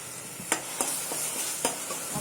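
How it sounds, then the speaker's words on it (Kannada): Ground greens-stem chutney sizzles in a hot tempering over a low flame, a quiet steady fizz punctuated by a few sharp scrapes of stirring, with no voices. "ಸ್ಟವ್ ಸಣ್ಣ ಮಾಡಿಕೊಂಡು ರುಬ್ಬಿರೋ ಚಟ್ನಿನ ಅದು ಒಗ್ಗರಣೆಗೆ ಹಾಕೊಳ್ತಾ ಇದ್ದಾರೆ."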